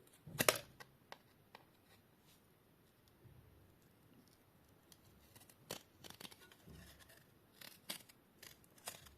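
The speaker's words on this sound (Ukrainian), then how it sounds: "Беру Ось такі ножниці по металу. І красиво обрізаю." Metal shears snipping gold-plated edge contacts off computer circuit boards: faint, close, sharp snips scattered irregularly over quiet background handling noise, with one louder cut near the start.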